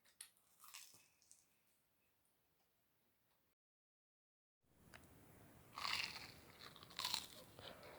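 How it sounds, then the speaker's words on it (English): Cheese sausage sandwich being bitten and chewed up close, soft crunchy bites and squishy mastication in quiet surroundings, with a short silent gap before louder crunching chews resume. "I'm just gonna have a bite from it."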